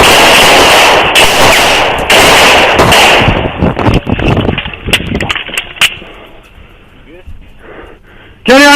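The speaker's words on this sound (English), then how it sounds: "Shots fired" Gunshots crack in a police shootout, starting as a rapid barrage of loud, clipped bangs and thinning into scattered single shots, close and harsh, with shouting voices mixed in.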